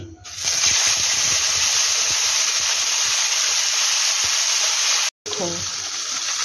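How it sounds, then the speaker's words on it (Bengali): Bhetki fish fat sizzles as it fries in a hot wok, a loud, steady crackling hiss throughout, cut by a brief silence near the end before the sizzle resumes. "এবার আমি কড়াতে এই মাছের তেলটা দিয়ে দিচ্ছি"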